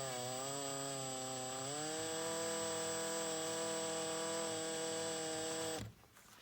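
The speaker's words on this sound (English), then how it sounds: "And drill slow because you don't want to go all the way through," Power drill boring holes into a metal skid weight plate for an RC car, a steady loud high whine with strong harmonics that dips slightly in pitch, then cuts off abruptly near the end.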